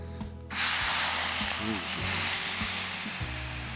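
Sausages hit a hot pan of cider outdoors at a wild camp and burst into a loud, steady sizzle that hisses on, with a voice talking faintly underneath.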